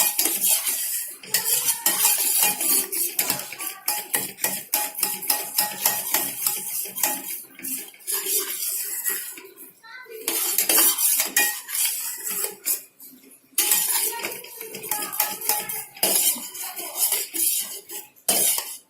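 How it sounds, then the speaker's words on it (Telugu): Metal spoon scraping and clinking around a cooking pot as custard powder and milk are stirred together, a steady run of close, rhythmic scrapes and taps continuing for the whole stretch with no talk. "ఇది కస్టర్డ్ పౌడర్ ఉడుకుతున్నంతసేపు కూడా మనము మిక్స్ చేసుకుంటూనే ఉండాలి పాలని"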